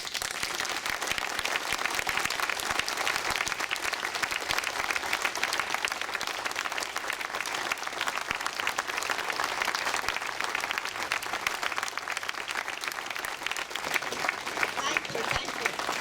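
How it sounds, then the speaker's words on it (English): An outdoor crowd at a memorial for fallen International Brigaders by the La Pasionaria statue gives a sustained minute of applause, dense and steady clapping holding an even, fairly loud level for the whole stretch, with no one speaking over it. "If I could get you to applaud for 1 minute"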